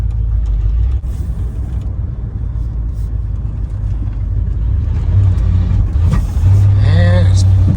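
A 1990 Ram truck engine idles roughly with its timing off, a loud steady low rumble throughout, with a voice speaking over it near the end.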